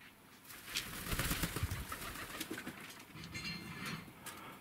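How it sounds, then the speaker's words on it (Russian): Pigeons in a dovecote coo and flutter, soft calls and wingbeats layered over a quiet background, with no voices. "Вот он, голубь, как подлетает."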